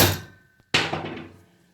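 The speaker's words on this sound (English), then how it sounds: "Just get the socket over there, give it a tap with a hammer." Two sharp metallic hammer taps on a socket during a Briggs & Stratton engine teardown, the second louder, each ringing briefly and fading out.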